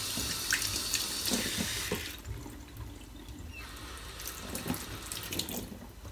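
Plums rinsed under a running kitchen tap: steady close water rush and splashing into a sink, briefly quieter midway before the flow picks up again, with no talk.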